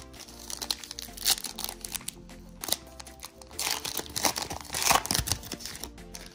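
A 2020 Chronicles football chrome trading card slides into a plastic sleeve, close crinkling and rustling of thin plastic in uneven bursts, a few sharper crackles, no speech.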